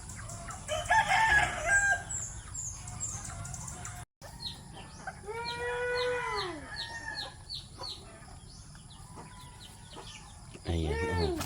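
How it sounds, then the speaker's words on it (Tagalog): A Bisaya native rooster on a rural farm crows a long drawn-out call at moderate distance, with other birds chirping and people talking nearby before and after. "Manok Bisaya."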